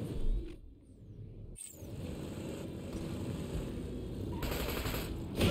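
Automatic gunfire in Borderlands 2 rattles in sustained bursts over a busy game soundscape, with a brief lull early on before the shooting resumes and keeps going near and loud.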